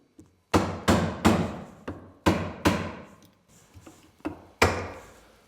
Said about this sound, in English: so now we're going to get to chiseling here